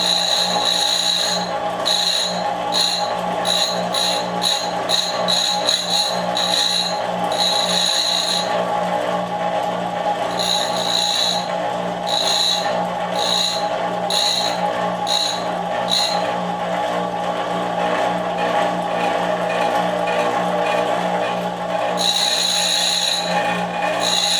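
Piston ring being ground on a ring-gapping grinder while preparing turbo pistons for high horsepower, heard as a steady near mechanical whir with rapid repeated scraping and grinding bursts, faster in the first few seconds, then intermittent strokes.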